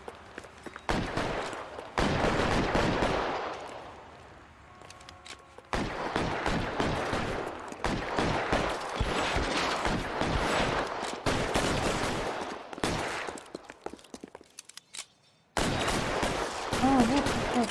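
Repeated bursts of gunfire in L.A. Noire, loud volleys broken by brief pauses, with rapid shots clustered in flurries and a voice speaking between some of them.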